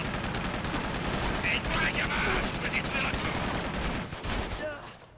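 Sustained gunfire in an Uncharted game during a jungle firefight in Borneo: rapid, dense bursts of shots layered with mechanical clatter, loud and nearly unbroken before tapering off at the end.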